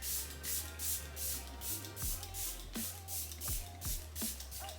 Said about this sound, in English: So I'm gonna spray my face after having done that.